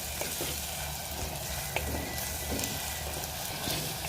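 A green masala paste sizzles with onions in a pan, a faint, steady hiss with a few soft stirring clicks and no voices.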